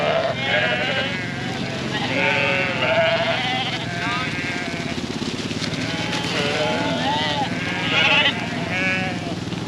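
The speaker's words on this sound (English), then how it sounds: "Looks like the boys are working on a sheep." Sheep bleat repeatedly at close range on a farm while men work on one of the animals, the calls overlapping in a busy stretch over steady background noise and some talk.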